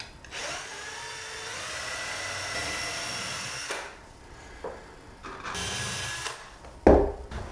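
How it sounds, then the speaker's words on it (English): A power drill bores a pilot hole in wood for corner screws on a homemade computer desk, whirring in several bursts of a few seconds each, with brief pauses and a sharp knock near the end. "drill a pilot hole."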